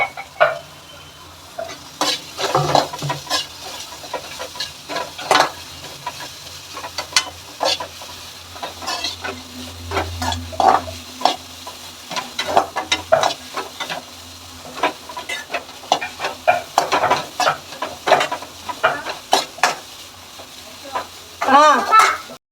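Carrots and vegetables for homemade noodles are stir-fried in a pan, with repeated scraping and stirring clatter over a soft sizzle throughout, near and fairly loud.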